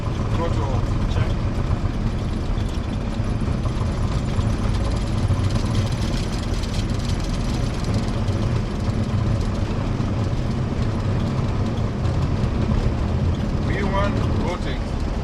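Inside the cockpit of a Kenya Airways Boeing 767-300, engine roar and runway rumble build steadily through the takeoff roll, staying loud and continuous while the crew talks over it.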